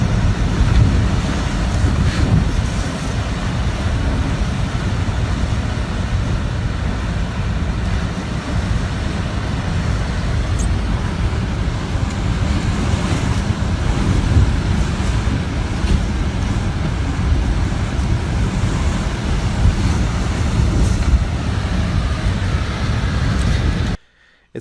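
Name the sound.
Hurricane Dorian wind and waves in the Bahamas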